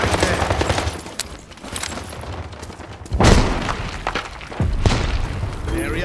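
Airstrike explosions and gunfire in the video game World War 3: a continuous rattle of battlefield fire, broken by two heavy, booming blasts a second or so apart, loud and close.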